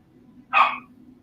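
A single sharp dog bark rings out once at moderate distance over a low steady hum, with no one speaking.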